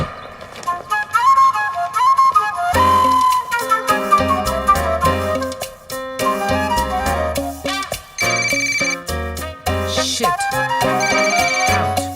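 A phone ringtone plays a loud, busy electronic melody of bright repeating tones and beats, continuous for several seconds with no talking over it.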